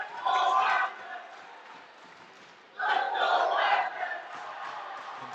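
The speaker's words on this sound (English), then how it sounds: "Competing cheers from the two teams. There's a lot of energy in the crowd today." Competing cheers from two teams' crowds at a dodgeball match at the National Dodgeball Championships: two loud bursts of crowd shouting separated by a quieter lull, broad and echoing like an indoor hall.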